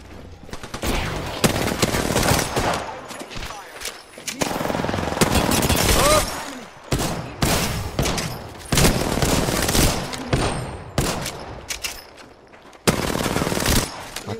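Automatic weapon fire in the battle royale game Apex Legends crackles in long, loud rapid bursts with short pauses between them, while players talk over the shooting.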